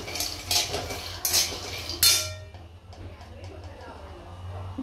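Peanuts roast in a pan on a home stove for peanut chutney, with a utensil stirring and clinking against the metal in quick bursts up close. A low background hum runs throughout, and a voice may be faintly present.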